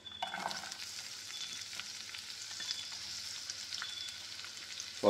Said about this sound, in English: Saute onion.